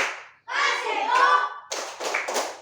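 A class of students chants loudly in unison, then breaks into three quick rhythmic group claps of the "tepuk wow" routine, close and energetic.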